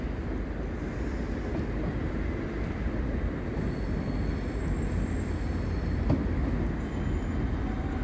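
A CAF-built Class 195 passenger train, unit 195128, bound for Windermere stands at Salford Crescent station, giving off a steady, even rumble and hum for the whole stretch with a faint high whine above it and no voices.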